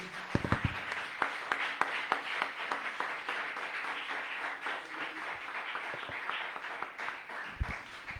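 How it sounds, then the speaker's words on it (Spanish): A church congregation claps steadily, a dense wash of applause with a few sharper, nearer claps standing out, no voices over it. "dele fuerte ese aplauso al Señor"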